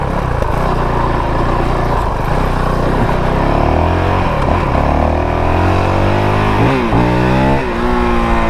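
A 2022 Honda CRF450RL dual-sport motorcycle pulling hard in second gear on a road, its engine note climbing steadily through rising revs, loud and close under wind rush, with a brief dip near the end before it revs again.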